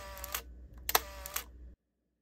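A Leica M8 camera shutter fires in quick succession in standard advance mode, several crisp mechanical clicks and whirs close up, then abrupt silence.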